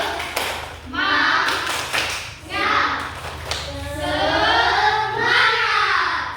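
A classroom of students claps a rhythmic spirit chant together, bursts of group clapping mixed with chanting voices throughout, loud and close.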